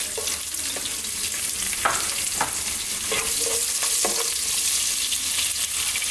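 Chopped onion sizzles steadily in hot spiced oil in a pan for a potato egg curry, a close, continuous frying hiss broken by occasional stirring scrapes and clicks, with no talk.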